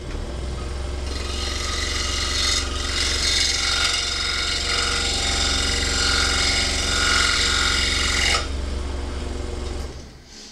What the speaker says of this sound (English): Need to make one more cut, forms the mouth, and that's pretty close to a 60-degree angle.